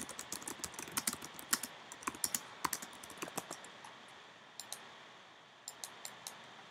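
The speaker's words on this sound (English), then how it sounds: "I'm just typing something." Computer keyboard typing during an online Bedwars game session, a quick irregular run of light key clicks in bursts, fairly close and quiet, with pauses between clusters and no talking.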